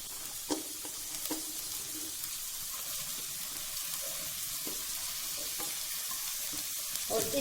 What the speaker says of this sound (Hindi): और इसको भी तकरीबन 1 मिनट तक हमने फ्राई करना है।